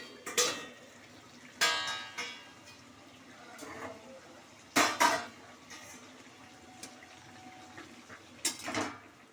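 Metal pot lid lifted off a pot of bottle gourd cooking with prawns, giving several sharp clanks and scrapes spread apart, close by, with a low bubbling hiss between them and no talking.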